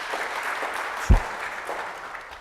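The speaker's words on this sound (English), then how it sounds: "let's have another round of applause" Conference session audience at the Open edX Conference breakout room giving a short burst of applause, a soft spread of clapping across the room lasting a couple of seconds.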